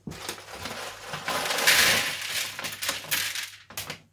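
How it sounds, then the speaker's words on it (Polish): Small plastic LEGO Botanicals 30701 pieces pour out of a bag onto a surface, a close, rattling cascade of clicking and clinking that swells and then trickles away in a few bursts. "I teraz pora wysypać elementy."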